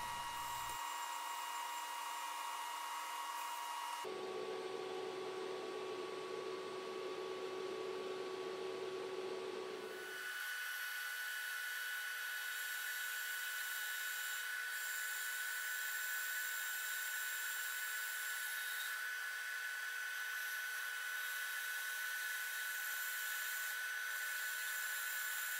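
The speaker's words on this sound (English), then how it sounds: "I'm just going to cut the upper profile with the bandsaw as well" A bandsaw cuts the upper profile of a wooden glide bait, giving a steady whining drone that drops in pitch as the blade bites into the wood for several seconds and then runs on evenly with no talk.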